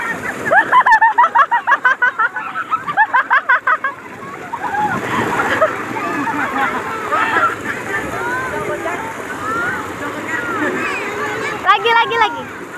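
People swim and splash in the Batu Putih river at Singkut, Sarolangun, with rough churning water and gusty wind noise throughout and voices chattering loudly over it.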